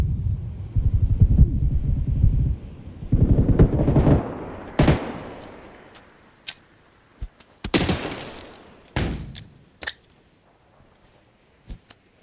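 Bursts of gunfire in a battle royale video game, with dense rapid shots and a rumble early on, then scattered single and short bursts of shots fading in and out with gaps.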